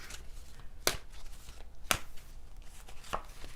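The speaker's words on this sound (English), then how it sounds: "I just shuffled these cards." Tarot cards are shuffled by hand in a quiet room, three or four sharp riffling snaps spaced about a second apart over soft, faint background rustle.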